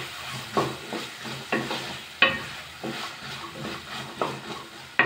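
A spoon stirs green peas and tomato in a frying pan over low flame, a series of scraping strokes about every half second over a soft sizzle, close and without voices.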